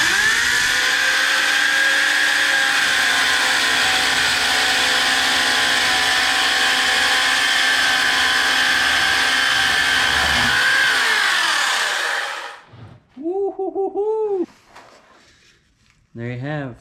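A handheld circular saw fitted with a beam-cutting attachment cuts through a beam in one pass, a loud, steady motor whine under load for about twelve seconds before shutting off, followed by a brief voice.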